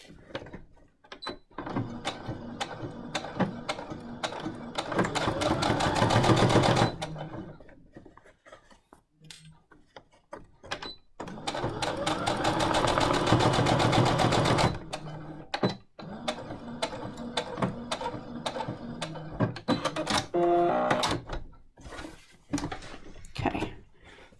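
A Brother SE625 sewing machine runs in two long bursts of rapid stitching along a face mask seam, with clicks, pauses and fabric handling in between.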